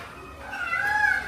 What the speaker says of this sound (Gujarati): અત્યારે અમારા ઘરમાં છે ને એક મોટો બિલાડો અને એક નાનું બચ્ચું બિલાડી